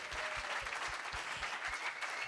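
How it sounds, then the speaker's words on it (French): Steady audience applause fills a hall at the GQ Men of the Year ceremony, with a dense, even wash of clapping and no pause, heard at moderate loudness from within the crowd. "je vais vous demander de l'applaudir un peu plus fort pour qu'il puisse nous entendre"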